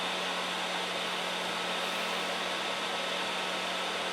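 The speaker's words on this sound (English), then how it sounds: "this is also where you'll find the 360-degree fan ventilation system, which does a great job of keeping the temperature regulated," Geeetech A10M 3D printer's 360-degree hot end cooling fan, a steady airy whir with a constant hum, fairly loud and unchanging throughout.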